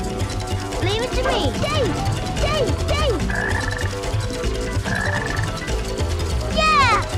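A black frog croaks repeatedly in the Sonic Heroes video game, with short chirping calls recurring over busy game music and character voice effects, loud and up close throughout.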